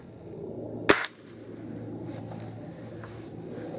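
Single sharp air rifle pellet shot, close and loud, followed by quiet background noise.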